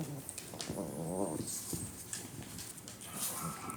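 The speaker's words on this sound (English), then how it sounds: "That is not Dottie. That is one of my Shih Tzus from outside." Small Shih Tzu dog barking and whimpering from outside, a few short muffled yelps over a busy indoor background, moderately loud.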